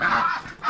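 Ducks being fed outdoors give a short, loud honking call with harmonic layers, rising again at the end, with no talk over it.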